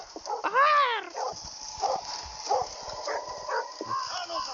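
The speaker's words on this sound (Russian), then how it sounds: "Синел, пожалуйста, не лай." A dog lets out a loud, sharp bark near the start, followed by a few softer yips and whimpers while someone speaks nearby.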